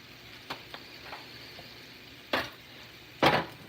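Radishes and onions frying in butter in a pan give a low, steady sizzle, broken by a few short clicks and two louder scraping bursts of stirring near the end.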